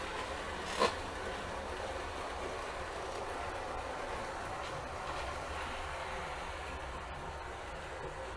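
A model railway train runs steadily along the track on a one-house layout, a faint continuous rumble with light rail noise throughout and a single brief click near the start, no voices.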